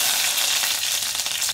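Crushed garlic cloves and spices sizzle in hot oil while tempering for a chana masala gravy, a dense, close crackling hiss that stays bright and steady for a brief moment.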